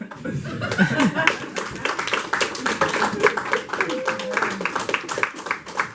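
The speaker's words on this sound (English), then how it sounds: "Maybe one more round of applause." Audience applause and scattered laughter at a live comedy show, clapping steady and fairly close, with chuckles and a voice or two mixed in throughout.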